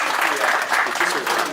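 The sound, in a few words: audience applauding at a meeting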